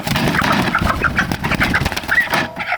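A Brahma hen with an injured leg clucks in short repeated calls, close and fairly loud, over a steady background rush of noise.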